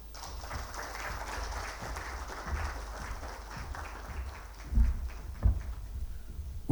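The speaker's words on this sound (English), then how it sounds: "another round of applause for her." Subdued applause from an audience at a fintech conference, a steady soft patter with low rumbling thumps and a few louder bumps near the end.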